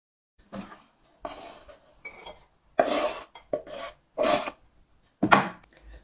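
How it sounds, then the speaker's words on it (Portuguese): A knife finely chopping onion on a board gives close, dry rasping strokes in short separate bursts, about seven in six seconds, with silence between them. "vamos então partir a cebola finamente."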